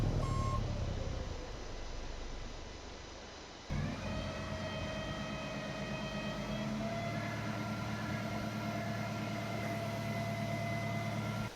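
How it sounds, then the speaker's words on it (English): A dump truck reverses in Farming Simulator 22 with a steady, evenly spaced electronic beeping over a droning engine hum, close and continuous with no voices. "We'll go ahead and take this dump truck up and go dump it."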